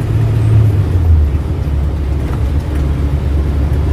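A Suzuki Carry drives along a busy straight road, giving a loud, steady low engine and road rumble from inside the cab, with no talking.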